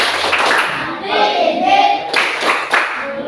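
A class claps together as a thank-you, a rhythmic run of hand claps mixed with children's voices chanting along, loud and close in a classroom.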